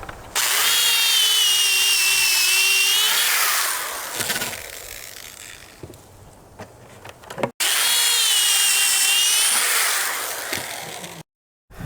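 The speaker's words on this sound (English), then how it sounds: "Now I'm going to drill the pocket holes." Power drill boring pocket holes into a 2x3 wood board, two loud sustained whining bursts of several seconds each with a quieter pause of handling noise between them, close up.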